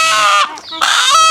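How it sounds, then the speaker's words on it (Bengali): Home-raised village rooster, around 3 kg, gives two loud, close harmonic calls split by a short gap, the second rising strongly before tapering off. "এখন এটা মোরগ"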